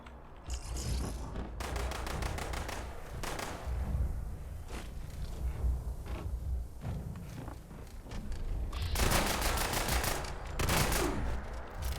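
Rifle fire in the video game Fallout 76, with bursts of rapid shots clustered near the start and again toward the end, loud and close amid steady game ambience.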